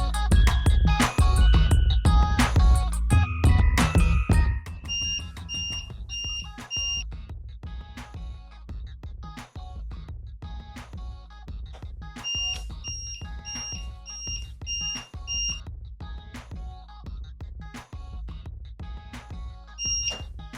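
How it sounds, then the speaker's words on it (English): Timer going off with short high electronic beeps in repeated clusters, near and clear, following a louder cluttered opening with no talk. "The timer will go off"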